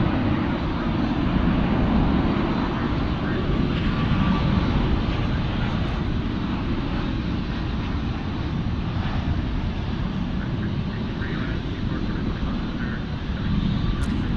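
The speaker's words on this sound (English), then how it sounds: "It's an A321." An Airbus A321 airliner at Dallas Love Field gives a steady, loud jet engine roar that holds throughout without fading.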